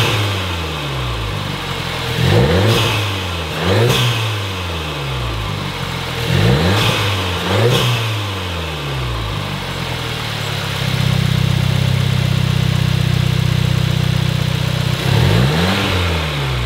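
A VW Golf R MK7 fitted with an Integrated Engineering intake revs repeatedly in short, aggressive bursts, then holds a steady higher idle before one more quick rev, loud and close with no talking.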